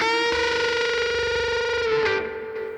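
A white Les Paul Custom electric guitar with a maple fretboard, through high-gain distortion, holds a thick, saturated chord that sustains, then shifts briefly before fading, with no talking.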